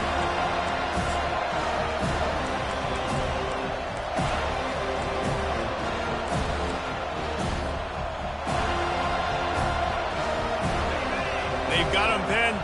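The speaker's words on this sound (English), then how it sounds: "this crowd trying to help keep them there" Football stadium crowd at LSU at Florida State roaring and cheering steadily throughout, a dense continuous wall of noise with a commentator talking over it.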